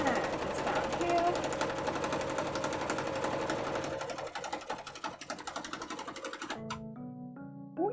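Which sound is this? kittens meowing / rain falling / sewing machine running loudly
sewing machine running loudly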